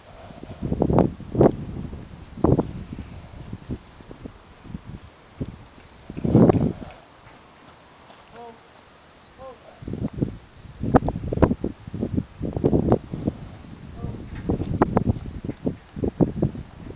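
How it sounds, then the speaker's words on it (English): An Arabian mare and other horses walk outdoors, giving irregular hoof clip-clops near and far, mixed with rustling and light wind. "Those other horses so she can see they're coming."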